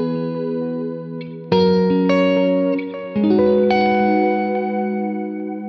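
An electric guitar played through a Neural DSP Quad Cortex with wow and flutter modulation rings out in sustained, wavering chords with delay trails, loud and alone, a new chord struck about every second and a half.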